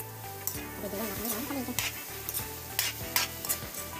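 Pork meatloaf mixture with breadcrumbs and pineapple juice cooking in a pan, stirred with a utensil. Faint sizzle under rhythmic scraping strokes, with a few sharp clacks against the pan, close by.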